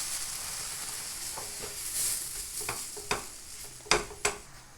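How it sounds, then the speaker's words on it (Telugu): Rice flour halwa with semolina and milk being stirred in a pan: a steady soft sizzle with scraping spoon strokes, several sharper clinks near the end, no talking. "కొద్దిగా పాలు పెట్టుకున్నాం కదా అది కూడా వేసేద్దాం దీన్ని బాగా మిక్స్ చేసుకుందాం"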